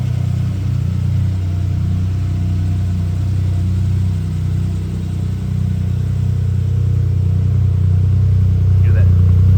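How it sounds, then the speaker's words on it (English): The engine of a 1996 Suzuki Jimny Land Venture kei SUV idles and revs with a buzzy, throaty exhaust note, steady and close, with faint voices underneath. "Hear that cool, buzzy little throaty exhaust."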